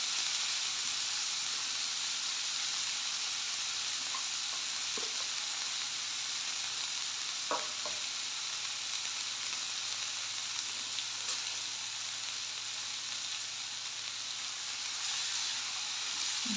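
Green chillies, tomatoes and leafy greens fry in a pan with a steady, moderate sizzle throughout, broken by a few light knocks and scrapes of a spoon stirring.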